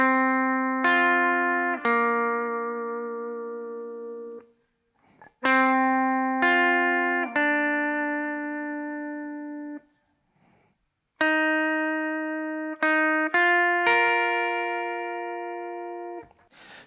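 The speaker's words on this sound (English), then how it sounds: "So I'll just play those 3 lines for you really slowly." Slow single-note electric guitar lines from a worship song, played as three short phrases. Each phrase holds clear ringing notes that sustain and fade, separated by brief silent gaps, with no talking.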